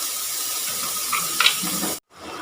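A tumbler of water pours into a cooking pan of chopped beetroot with a steady rushing hiss close by, rising slightly near the end before stopping abruptly.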